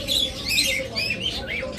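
A pet bird squawks loudly and up close in a breeding cage where a pair is nesting on eggs, giving several harsh, shrill calls in quick succession with other birds chirping around it.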